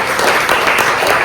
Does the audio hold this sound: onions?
no